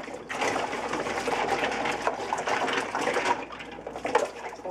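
Scrubbing a child's teething toy with a brush in water, giving steady wet, rasping strokes that run continuously and fairly close, with no talking over them.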